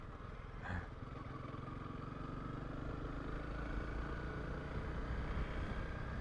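A Honda CRF 300 Rally motorcycle rides a sandy track in the Banghoek Nature Reserve, its engine droning steadily and fairly faint under rushing wind noise.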